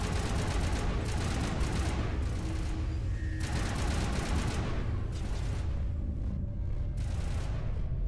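Gunfire in a Mass Effect–style video game: a dense, continuous clatter of rapid shots and booms with no clear pauses, loud and chaotic.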